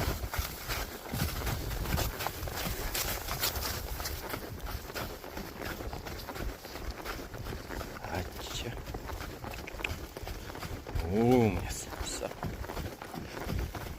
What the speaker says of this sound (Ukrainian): Давай тут трошки рисю пройдемо